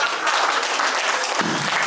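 An audience at a public program claps, a dense, steady burst of applause from a sizeable crowd that carries on without a pause.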